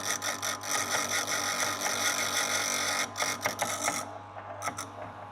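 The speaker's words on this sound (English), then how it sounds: "And deburr the ring." A piston ring for a Nissan RB32 engine being deburred, with Nitto pistons and rods nearby: a steady, close rasping buzz made of quick repeated strokes, easing and thinning toward the end, with no talk.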